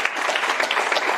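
Brief burst of audience applause for a participant in a group coaching program, dense and even clapping close by, with no voices over it.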